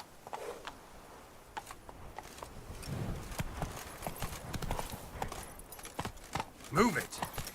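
Horse hooves clip-clopping in The Witcher 3, a steady close rhythm of hoofbeats with a brief whinny near the end while a voice speaks over it.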